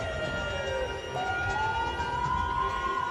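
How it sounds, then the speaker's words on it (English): An ambulance siren wailing on a road as traffic gives way, its tone sliding slowly up and down in a steady sweep, moderately distant and fairly faint over low background rumble, with no talking. "And let the ambulance pass you."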